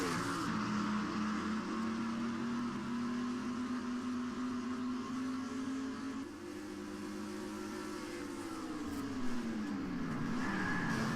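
Race cars in a Pokemon Cup Series video game race at Bikerneiki roar off the green flag, a thick engine drone that climbs and sweeps in pitch as the pack accelerates, loud and continuous.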